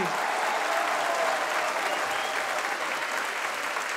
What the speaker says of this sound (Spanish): ustedes mismos se den un gran aplauso por haber cantado tan bonito estas canciones